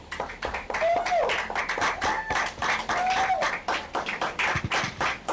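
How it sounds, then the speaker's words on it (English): A conference audience at a coding bootcamp gives steady, dense clapping that lasts the whole stretch, with a few whistles rising above it. "A round of applause for yourselves,"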